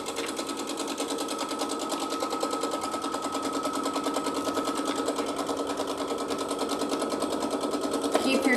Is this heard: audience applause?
no